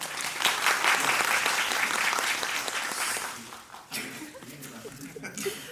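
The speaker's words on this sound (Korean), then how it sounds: "우리 박수 한번 부탁드립니다." An audience applauds during a stage greeting after the closing performance of a musical, a full, sustained burst of clapping that fades out after about three seconds, leaving scattered claps and faint murmurs.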